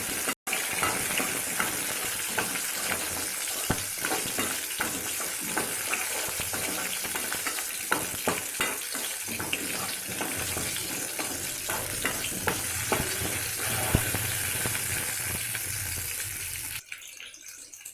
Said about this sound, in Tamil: நல்லா வதக்கிக்கோங்க பூண்டும் வெங்காயத்தையும்.